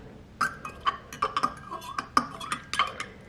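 A spoon clinks and scrapes against a bowl in quick, uneven taps while sunflower oil is mixed in during bread-making, close and fairly quiet, with no talking.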